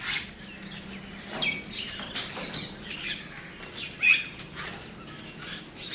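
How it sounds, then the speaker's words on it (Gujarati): Small birds chirp and tweet in quick, scattered bursts, mixed with soft flutters of flapping wings, all moderately near against a steady outdoor background. "પક્ષીઓ આવી ગયા છે।"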